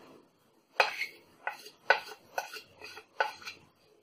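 A spoon stirs moong dal pakora batter with coriander and green chilli in a bowl, making five or six distinct scraping clinks at an irregular pace, close and clear with quiet pauses between.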